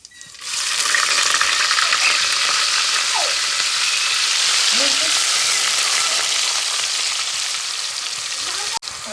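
Chopped onion goes into hot oil in a pan for a stuffed brinjal curry, and a loud, steady sizzle rises and holds close up, with a few faint stirring scrapes over it.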